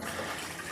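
A short, continuous rush of water pours from a mixer jar into a pot of peanut curry. It is a brief, even, close gush of liquid with no talking.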